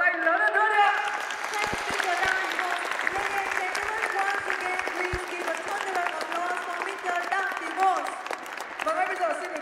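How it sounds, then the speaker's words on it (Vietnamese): A large crowd at an Amway Vietnam rally applauds steadily throughout, a broad wash of clapping under an amplified voice speaking over a sound system. "chúng ta hãy dành một tràng pháo tay lớn hơn nữa đi ạ"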